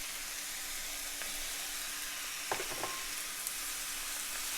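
Shrimp sizzle in a stir-fry pan with vegetables, a low steady frying hiss broken by a brief cluster of utensil clatter midway. No talking.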